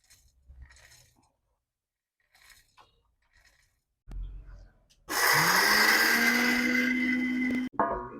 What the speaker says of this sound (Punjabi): ਆਪਾਂ ਜਿਹੜੇ ਛੋਲੇ ਲਏ ਆ ਆਪਾਂ ਪੀਸ ਲੈਨੇ ਆ ਮਿਕਸੀ ਦੇ ਜਾਰ 'ਚ ਪਾ ਲਾਂਗੇ